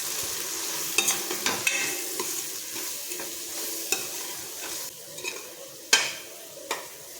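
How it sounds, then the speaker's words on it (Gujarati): Spoon stirring turmeric, asafoetida and other spices through hot oil in a pan for Gujarati Rajwadi dhokli shaak, with soft scraping clicks at an irregular rhythm over a steady low sizzle, close and fairly quiet. "બધું જ આપણે સારી રીતે મિક્સ કરી લઈશું"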